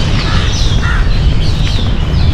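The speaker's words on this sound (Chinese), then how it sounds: "这边乌鸦好多， 一直听到乌鸦叫，" Crows caw repeatedly outdoors on a hill in Malacca, Malaysia, their harsh calls mixed with other birds over a loud, constant wash of background noise.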